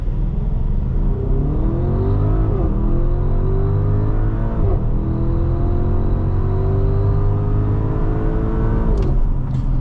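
A 2025 Audi SQ7 4.0T Prestige pulls hard on a test run, its engine note rising steadily in loud, continuous sweeps broken by brief gear-change dips, with a whooshing rush near the end.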